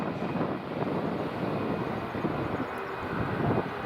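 A Eurowings jet taxis at Edinburgh Airport, its engines a steady, broad rumbling roar with wind buffeting the microphone.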